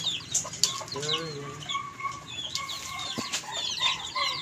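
Hen clucking close by in a farmyard, short, irregular clucks and chirps with a faint flutter of wings, while other birds call in the background.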